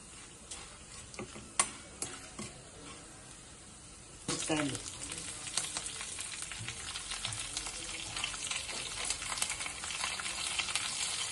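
Urad dal and dried red chillies fry in hot oil as tempering for a methi curry. Faint clicks and taps come first, then a sudden sizzle starts and crackles on steadily close by.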